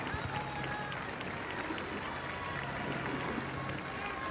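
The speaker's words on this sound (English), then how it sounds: "As they come down past the stands now, we can see the crowd clapping for them" Spectators in the stands at Henley Royal Regatta applaud as a women's double scull crew rows past, a steady wash of distant clapping and crowd noise running beneath continuous commentary.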